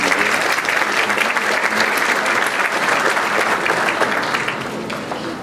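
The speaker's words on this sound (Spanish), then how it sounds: "Recibamos con fuertes aplausos a Manuel Rodríguez" An audience at an education conference gives a speaker loud, dense, sustained applause that stays steady for several seconds without talk.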